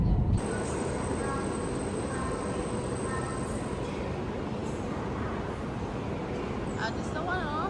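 A high-speed train running between Hong Kong and Shenzhen gives a steady, loud rolling rumble and rushing noise from inside the carriage, with faint voices heard now and then.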